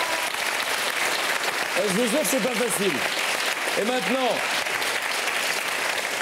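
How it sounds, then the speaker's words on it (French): Audience applause at a live French comedy stage show after a flute performance, a steady wash of clapping throughout, with someone talking over it. "Wow, on applaudit."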